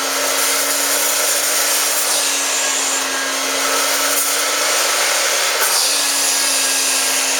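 A wet vacuum sucking water and paint out of a carpet after a water spray, a steady loud motor whine with a continuous airy roar running throughout, close by and without talk.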